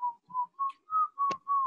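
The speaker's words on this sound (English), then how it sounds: "Who's whistling?" A person whistles a short tune of six sustained notes with brief gaps between them, clear and close, with a faint click partway through.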